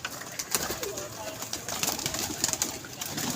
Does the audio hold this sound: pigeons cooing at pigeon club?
yes